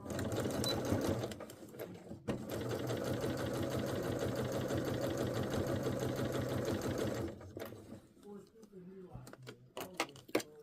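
A domestic sewing machine runs a steady, rapid stitching chatter while sewing a gently curved seam on a Vogue 9292 garment, then stops, leaving a few soft handling clicks and rustles.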